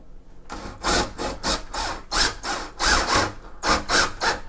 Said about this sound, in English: All you do is you put a Phillips bit in your drill gun